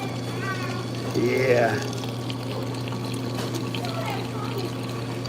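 Large decaf coffee dispensed from a machine and stirred, a brief pouring stream followed by quieter liquid movement over a steady background hum, with a short spoken word.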